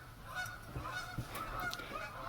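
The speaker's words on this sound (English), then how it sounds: "sorry about the geese" Geese honking as they fly overhead outdoors, a series of moderately loud calls scattered through the moment with no talking.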